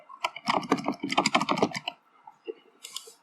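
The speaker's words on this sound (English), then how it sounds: "go straight to the cell you want the formula to go into, press equals, and type in the formula that way" Computer keyboard typing a spreadsheet formula: a quick, close burst of many key clicks for about two seconds, then a short pause and a few scattered taps.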